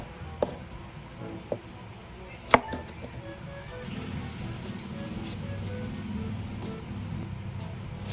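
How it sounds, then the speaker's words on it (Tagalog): A knife chops an onion on a board for dinuguan, giving a few sparse, crisp knocks spaced about a second apart, followed by a low steady background hum. "At ngayon naman mga kadilag ay mga ricados naman ang ating hihiwain. Unahin na natin tong sibuyas mga kadilag."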